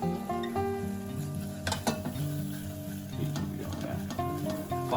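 Onions sweating in melted butter in a pot give off a steady low sizzle, with a few brief utensil knocks and stirring scrapes. Close, fairly quiet, and no voices.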